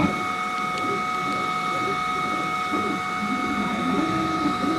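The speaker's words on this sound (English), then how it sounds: "For those of you who could have heard the printer in the background" A 3D printer runs continuously with a steady mechanical whir and hum, its motors droning at an even level throughout.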